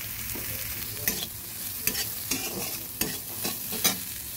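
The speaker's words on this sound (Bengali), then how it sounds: "এবার হালকা আঁচে নেড়ে দেব।" Boiled sweet corn with a pinch of black salt being stirred in a pan over low heat, a spoon scraping in repeated strokes about once a second against a soft, constant sizzle.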